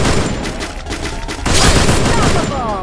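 Bursts of rapid gunfire from a battle royale shooter, dense overlapping shots that swell louder midway and keep going to the end, with game noise and talk mixed in.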